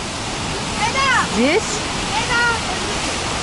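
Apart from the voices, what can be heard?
Düden waterfall in Antalya, Turkey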